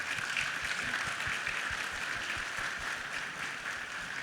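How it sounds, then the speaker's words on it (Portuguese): Audience applause for a speaker at a business event, a steady dense patter of many hands clapping, moderately distant and continuous throughout. "Vamos dar uma salva de palmas para ele."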